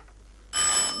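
A telephone rings loudly and close by, starting abruptly halfway through after a near-silent stretch, with a bright, steady electronic tone, in a scene of a Pakistani army drama.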